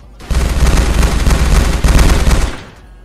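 Sustained automatic gunfire in the game Unturned during World War II combat, a loud, rapid, continuous rattle of shots lasting a couple of seconds before cutting off.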